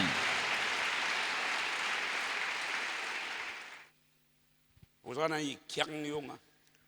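A church congregation applauds loudly and steadily for several seconds in a dense wash of clapping that fades out, followed by someone speaking in French.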